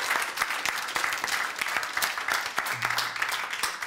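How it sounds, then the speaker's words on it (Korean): An audience at a church Bible-and-science lecture breaks into applause, a dense, continuous patter of many hands clapping close by for several seconds without any voices. "박수"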